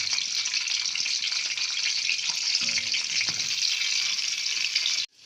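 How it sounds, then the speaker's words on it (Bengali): Pieces of pointed gourd (parwal) fry in hot oil, giving a steady loud sizzle close by that cuts off abruptly near the end, with faint utensil clicks and no talk. "এইবারে আমি পটলগুলোকে ভেজে নেব। অল্প অল্প করে দেব, দিয়ে ভেজে নেব পটলগুলোকে।"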